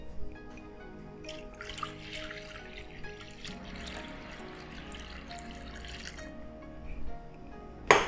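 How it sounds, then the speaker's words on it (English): Tap water runs into a bowl in a kitchen, a faint trickle and splash with small drips, quiet and uneven, swelling slightly near the end. "get a bowl and we'll need to fill it with some water."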